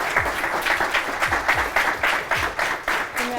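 An audience at a debate show's grand finale claps in steady, loud applause that continues without a break for a few seconds as a winner is honored.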